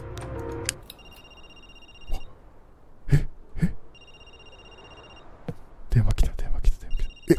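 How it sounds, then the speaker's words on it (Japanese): A telephone rings in the horror video game Linger, its repeated electronic ring tones coming in short bursts and alternating with gaps, while someone talks and reacts over the ringing. "電話、電話か、電話かかってくんのか"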